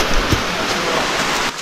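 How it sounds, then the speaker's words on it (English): Dense, rushing water of a Sri Lankan waterfall roars steadily, a broad hiss of falling water filling the air without pause. "And there it is, the waterfall."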